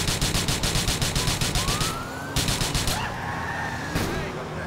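A police car siren from the video game GTA IV wails and rises in pitch amid loud, rapidly pulsing bursts of game noise, with a brief drop in the din midway and no voices.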